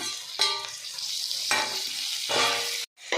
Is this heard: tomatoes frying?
yes